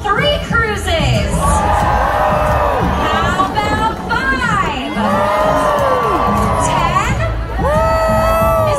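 A cruise ship audience cheers and whoops in loud waves, many voices shouting together in bursts that swell, dip and rise again, with crowd chatter underneath.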